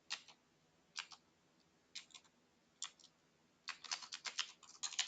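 Commands are typed on a computer keyboard, soft close clicks coming in short separate bursts at first, then a faster run of keystrokes at the end.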